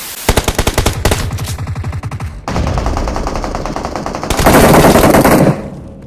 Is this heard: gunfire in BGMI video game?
yes